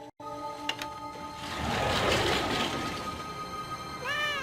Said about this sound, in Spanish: John, aquí hay un gato.